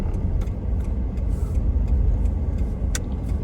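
Road traffic moves along a street near a residential area, a steady low rumble of car engines and tyres with a few brief passing whooshes and light clicks, moderately close and continuous, with no talking.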